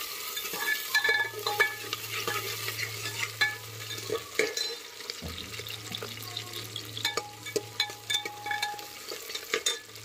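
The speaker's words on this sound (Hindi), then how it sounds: "हमारी प्याज भून रही है, मटर भून रही है" Onions and peas frying in mustard oil, stirred with a utensil: a steady crackling sizzle under repeated scraping and clinking of the spoon against the pan, with a low hum running through most of it.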